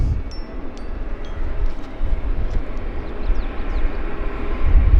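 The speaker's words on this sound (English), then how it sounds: "I think we have an Air Canada Heavy departing south side" A heavy Air Canada jet departs Vancouver Airport, heard as a continuous distant roar of engine noise and broadband rumble that grows a little stronger toward the end, with faint bird chirps.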